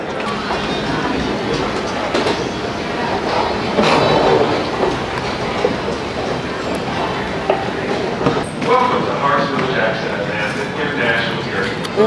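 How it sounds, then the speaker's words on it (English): An airport terminal train rides along its rails, a loud continuous rumble with rhythmic clatter and brief squeals, with talk and crowd noise beneath it throughout. "I think I'm on a train to get to Terminal A."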